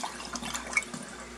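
Liquid poured into a bottle, a soft continuous splashing trickle with small gurgles, close and fairly quiet, with no talking.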